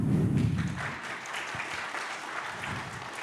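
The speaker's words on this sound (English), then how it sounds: "I would like to welcome with a big applause Andrei from Enix" Audience applause welcoming a speaker at a Kubernetes community conference session, a moderate room-filling patter that is strongest at the start and then thins to a steady, fainter clatter of hands.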